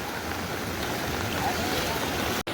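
River floodwater rushing through a village past a bridge, a steady dense roar of flowing water with a brief dropout just before the end.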